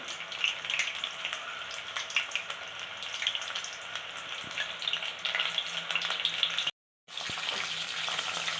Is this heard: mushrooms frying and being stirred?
yes